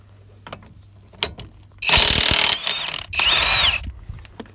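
A HERCULES Ultra Torque Gen2 high-torque impact wrench breaks loose tight factory-torqued nuts on an old vehicle's drivetrain, with a few short taps followed by two loud, sustained bursts of rapid hammering close by, and no talking.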